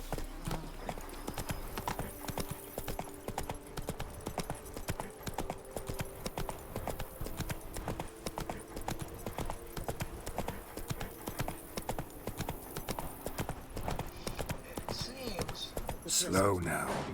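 Steady trotting hooves of a horse in The Witcher 3 clop in a brisk, even rhythm throughout, with a voice talking over them and a brief louder burst near the end.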